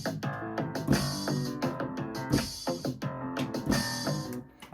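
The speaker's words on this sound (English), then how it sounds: "this is how a snare sounds on this electronic instrument" Electronic instrument playing a groove with a snare-like hit on the offbeat among other drum and tonal sounds. Busy, rhythmic and moderately quiet, with repeated sharp hits and no voices.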